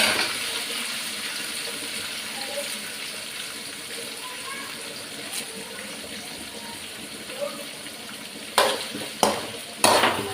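Chopped onions and curry leaves sauté in a pan with cumin, fennel and cinnamon, giving a steady sizzle with soft stirring, a few light clinks toward the end and a voice talking over it.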